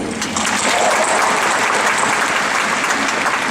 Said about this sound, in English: Let's give a round of applause to our amazing teachers, coaches, administrators, and families.